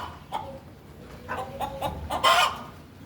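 Backyard chickens at an animal rescue cluck and squawk in short repeated calls, a few birds close by, with one louder, harsher squawk near the end.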